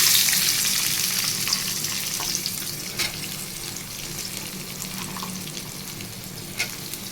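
Onions frying in oil with ginger as the base for a jackfruit curry, giving a steady close broadband sizzle with a few sharp ticks and clinks of stirring, with no talk over it.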